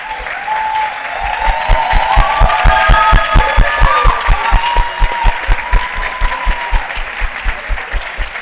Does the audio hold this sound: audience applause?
yes